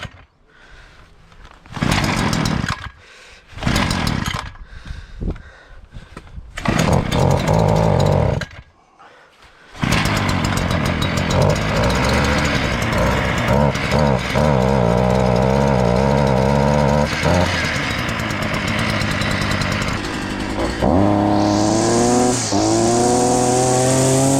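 A new Parkside petrol garden tool engine on choke sputters through several short pull attempts, catches, then runs loudly and steadily close by, rising into a high revving whine near the end.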